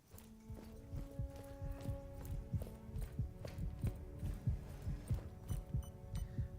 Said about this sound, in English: I too listen to my heartbeat this violently whenever I sprint